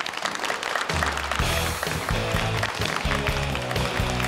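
Audience applause greeting a performer at a crosstalk and comedy show, a steady clapping wash with a music sting kicking in underneath after the first second.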